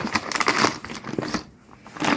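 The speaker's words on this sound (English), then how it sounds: "I'm going to add in these shells" Dry pasta shells are poured into a slow cooker, a rattling, crinkly clatter in bursts that pauses briefly and then picks up again, close and fairly loud.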